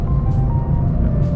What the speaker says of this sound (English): And this car's running good.